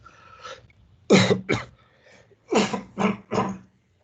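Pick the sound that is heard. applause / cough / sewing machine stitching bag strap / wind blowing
cough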